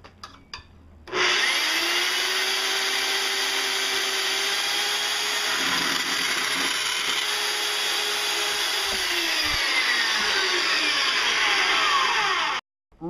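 A Harbor Freight portable band saw cuts through steel electrical conduit, its motor starting with a whine, running as a steady loud grinding hum with a rising ringing tone for about eleven seconds, then stopping abruptly.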